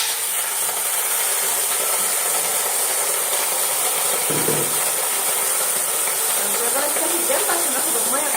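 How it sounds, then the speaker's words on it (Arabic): Cow trotters sautéing in a pot over a fire give off a loud, continuous sizzling hiss, with scraping stirs and a clatter near the middle, while a voice talks at times. "هشوحها على النار شويه"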